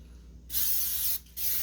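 Two bursts of cooking spray hiss onto a whole spatchcocked chicken before the barbecue rub goes on, the first long and the second shorter after a brief pause, close and clear.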